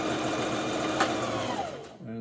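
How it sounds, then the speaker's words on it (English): A domestic sewing machine stitches fabric for a mask hood, running backward with its reverse lever in a fast, steady mechanical whir up close, then slowing to a stop at the end. "backspace on my sewing machine is just this little lever"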